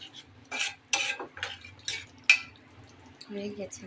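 Biryani masala being stir-fried in a pan beside a cooking fish curry, with repeated sharp scrapes and clinks of a spatula in a short uneven rhythm, close and fairly loud, with a voice speaking briefly near the end.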